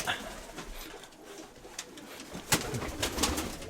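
Pigeons in an upper-level dovecote, with soft low cooing over a rustling, busy background and a few sharper knocks and flutters toward the end.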